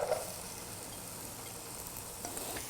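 Chopped yellow onion fries in a pan, a continuous soft sizzle with faint crackles, steady and close, with no talking.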